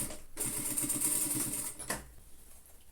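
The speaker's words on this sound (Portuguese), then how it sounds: "eu vou fazer aquela costurinha aqui embaixo do braço de reforço também, pra não estourar" A sewing machine runs a short reinforcement seam under the sleeve of a lined children's coat, its steady rapid stitching chatter close and continuous for about a second and a half before stopping, with a brief burst afterward.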